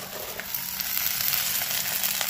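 Spring onion stalks dropped into potatoes already fried red in hot oil, a close, bright sizzle that swells slightly as they go in, with a few soft stirring clicks and no talking.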